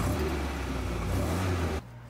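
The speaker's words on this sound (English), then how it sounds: "Now fire the car up," A car engine idles with a steady low rumble, heard close and alone, then the sound drops away abruptly near the end.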